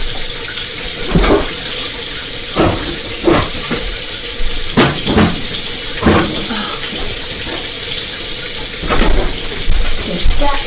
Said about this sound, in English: Just washing my hand off.